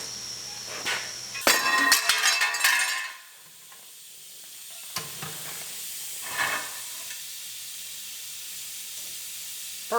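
Welding a new patch piece into a car body, heard as crackling, sizzling bursts of hiss that are loudest early on and then come in shorter spurts amid a low steady hum, with no talking.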